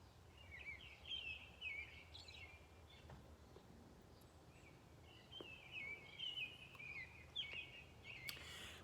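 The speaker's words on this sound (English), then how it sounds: "some birds chirping" Birds chirp outdoors in scattered bursts of high, twittering calls, fairly faint over a low background rumble.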